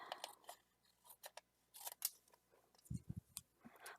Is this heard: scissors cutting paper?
yes